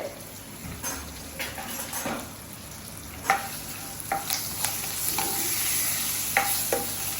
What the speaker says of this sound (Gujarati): એક મરચું લઈ લઈશું લીલું અને થોડા લીમડાના પત્તા લઈશું આને મસ્ત તેલમાં સસડાઈ લઈશું